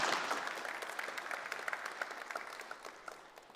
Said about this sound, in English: Please join me for a round of applause for Gordon.